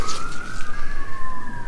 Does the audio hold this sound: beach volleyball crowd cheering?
no